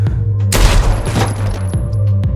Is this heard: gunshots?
yes